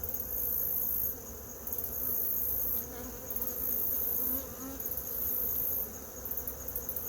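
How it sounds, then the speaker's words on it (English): Honey bees buzz steadily during beekeeping work while two hives are being combined, a dense close-up hum that swells and eases in waves, with no voices. "so that's more bees"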